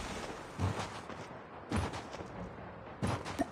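Full-auto M13 assault rifle fire from hip in Call of Duty Mobile battle royale, three separate bursts spaced about a second apart, fairly faint and distant-sounding.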